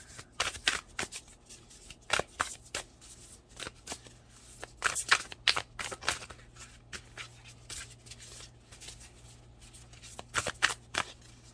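Tarot cards being shuffled and drawn, producing repeated crisp riffling bursts and slaps at an uneven rhythm, close up, with a steady low hum underneath and no talking.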